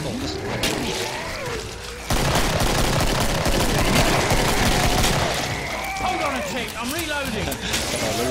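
Rapid gunfire rattles in the video game Killing Floor, with dense automatic bursts and thuds. Excited voices talk over the shooting throughout.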